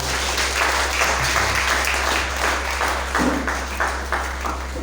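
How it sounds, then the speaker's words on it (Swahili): A church congregation applauding, a dense, sustained wash of many hands clapping at close range with a steady low hum beneath, lasting throughout. "Tupigie Yesu makofi mazuri"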